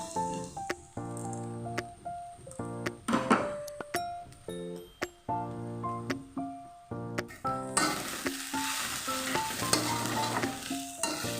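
Bamboo shoot frying in a pan with ground spices and salt for a Nepali-style dish, a utensil stirring it in repeated scraping strokes over a steady close sizzle that grows denser near the end.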